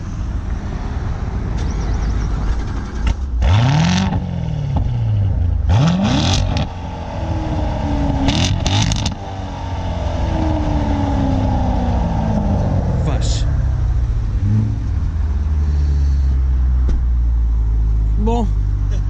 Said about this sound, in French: J'aimerais bien que tu me la démarres, que j'entende un peu le bruit à l'arrière